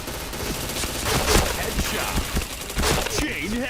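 Gunfire from a shooter video game rattles in rapid bursts of close, loud shots, with a voice briefly audible near the end.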